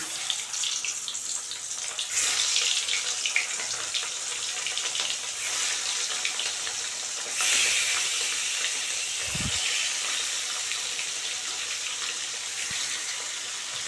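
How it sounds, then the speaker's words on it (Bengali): Fish frying in hot mustard oil produces a broad, steady hiss, rising in brief surges, with a low thump near the middle and no speech. "তেল গরম হয়ে গেছে এখন আমি একে একে মাছগুলো দিয়ে দেবো"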